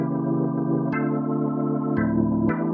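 A held organ-like chord runs through a software rotary speaker effect that is switched from slow to fast rotation. The tone gains a quicker shimmering tremble over several chord changes, with no talking.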